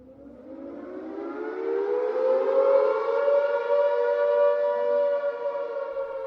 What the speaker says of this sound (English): The narrow streets are filled with the whine of sirens.